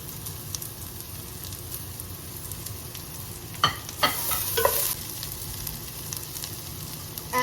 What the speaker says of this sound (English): add the chopped garlic and ginger, and I'm going to saute that with the onions